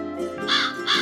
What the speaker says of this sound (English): Caw.